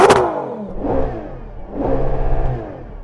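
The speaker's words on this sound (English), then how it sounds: "So I'm going to rev up this Lamborghini." A Lamborghini Urus Performante with its standard exhaust revving hard close by, three rising engine roars in quick succession with crackling exhaust pops between them.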